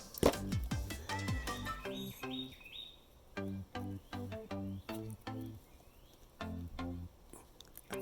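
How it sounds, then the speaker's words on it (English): Bird chirps and tweets ring out in short repeated phrases, with a fainter bird answering far off in the distance, set among a few clicks and taps outdoors. "I hear another bird answering that bird way off in the distance"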